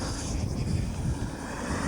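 Model airplane engine at a Scottish model airshow, a steady droning buzz held at an even level throughout with some wind noise, no speech.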